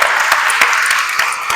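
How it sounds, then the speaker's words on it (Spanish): Audience applause at a lecture on the composer Salomón Buitrago, steady dense clapping from a crowd throughout, fairly loud and close, with sharper individual claps standing out. "Un aplauso, por favor."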